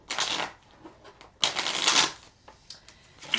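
Tarot cards are shuffled close by in two main crisp, papery bursts with short pauses between, clear and loud with no voices.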